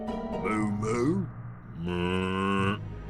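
A voice imitates a cow with a short, questioning moo in the video game Hector: Badge of Carnage, then a cow answers with a drawn-out, low, steady moo that is loud and close.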